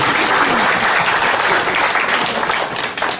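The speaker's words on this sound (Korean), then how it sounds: "여러분 그런 사람 되도록 박수 한번 쳐주세요." A church congregation claps in a dense, sustained burst that fills the room, then thins and tapers off near the end.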